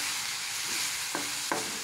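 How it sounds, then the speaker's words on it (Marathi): Bottle gourd sautés in hot oil with a steady, close sizzle, with a couple of brief scraping clicks as it is stirred in the pan. "अगदी 1 ते 2 मिनटं याला असं परतायचं आहे तेलावरती."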